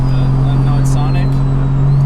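Interior of a Toyota Supra project car being driven, a loud, steady low engine drone with continuous road noise throughout.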